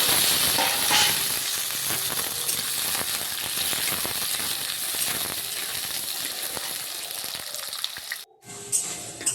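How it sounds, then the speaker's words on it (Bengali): Potatoes fry in a pan with fenugreek and dried chilli for a cabbage dish, giving a continuous loud, hissing sizzle close by that drops away abruptly near the end. "आलूटा एमन करे भाजबो जाते हाफ हाफ सेদ্ধ हो जाए"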